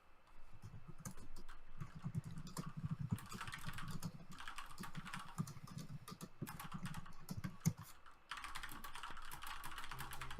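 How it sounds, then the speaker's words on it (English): Rapid typing on a computer keyboard, dense clattering keystrokes in uneven bursts with short pauses, close and clear, with no voices. "Just typing away."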